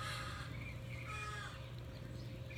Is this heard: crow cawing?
yes